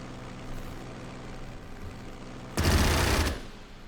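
In a war strategy game, an aircraft strafes with its machine gun in a short, dense burst of rapid fire lasting under a second, loud over a steady engine drone.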